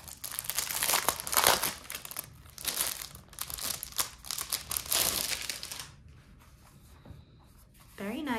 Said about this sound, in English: It comes with this lined memo paper. Let's open this up.